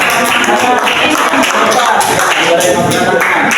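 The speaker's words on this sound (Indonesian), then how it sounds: "Ya, tepuk tangan dulu." Audience clapping in a classroom or training session, a dense continuous patter of many hands at steady loudness throughout, with no one speaking over it.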